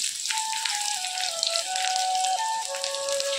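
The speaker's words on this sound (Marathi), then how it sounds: "आपलं तेल गरम झालेलं आहे, त्याच्यामध्ये हा एक चिरलेला कांदा टाकायचा आहे।" Chopped onion fries in hot oil with a soft, spitting sizzle and scattered pops, and a faint tonal hum runs underneath.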